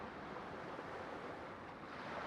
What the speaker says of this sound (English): the only sounds you hear are the whispers of the ocean waves lapping against the shore